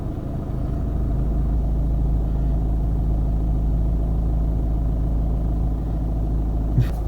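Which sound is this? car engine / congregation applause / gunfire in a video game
car engine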